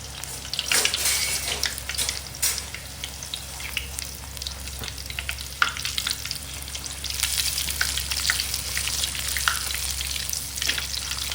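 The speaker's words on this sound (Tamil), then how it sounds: "நம்ம பூரி செஞ்சு எண்ணெயில் போட்டு பொரிச்சு எடுத்துக்கோங்க" Puris deep-fry in hot oil with a steady, loud bubbling sizzle, broken by occasional crackling bursts and stirring, and no voices over it.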